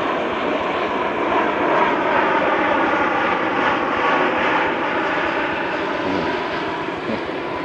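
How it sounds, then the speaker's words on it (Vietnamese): A fixed-wing airplane roars steadily overhead near Saigon's outskirts, a loud continuous engine drone with no break, as planes keep landing and taking off nearby. "máy bay cứ đáp lên đáp xuống"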